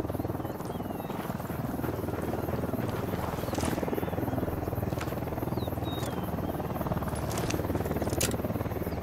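A helicopter in the video game Ghost Recon Wildlands whirs as a continuous rotor drone, steady and moderately loud throughout, with faint chirps and clicks scattered over it.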